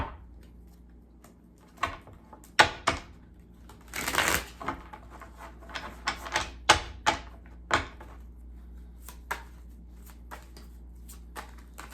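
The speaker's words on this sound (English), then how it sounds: "this deck is really big, so it's kind of awkward for me to shuffle it" Crisp riffling and slapping of a large, thick tarot card deck being shuffled awkwardly, in irregular bursts with short quiet gaps between.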